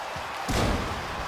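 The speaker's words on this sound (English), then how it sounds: "He gets him in his leg and he just slams into the mat." A single heavy thud as a wrestler is slammed onto the mat after a leg takedown during a wrestling match, one impact over a steady background.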